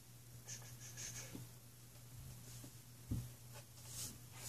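Pen or pencil writing by hand on paper during a quiet study session, a faint, soft scratching that runs in short strokes against a low steady background hum.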